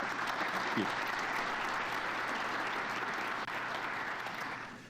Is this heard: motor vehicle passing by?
no